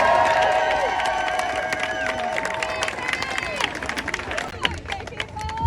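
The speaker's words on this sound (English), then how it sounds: "Big round of applause to you" Outdoor crowd at a counterprotest claps and cheers, a dense wash of applause and whoops filling the clip with steady babble underneath.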